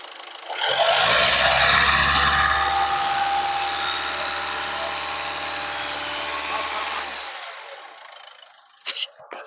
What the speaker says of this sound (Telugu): ఇంజన్ చాలా స్మూత్గా అయితే ఉంది